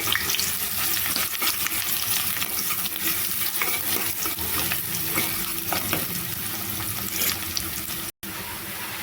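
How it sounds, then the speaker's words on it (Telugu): Onion pieces frying hard in an oily pan for a Telugu country-chicken curry, a loud, steady sizzle with occasional stirring scrapes throughout and a brief dropout near the end; no talking. "ఉల్లిపాయ ముక్కలు వేసుకుంటున్నాను. వేసుకొని వీటిని దూరగా ఫ్రై చేసుకోవాలి."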